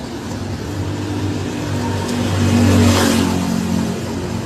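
A car engine revs steadily during a car reveal, a mid-pitched roar over broad noise that swells louder near the end before easing slightly.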